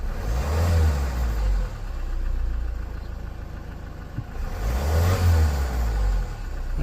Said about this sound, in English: So what we can do is rev it now.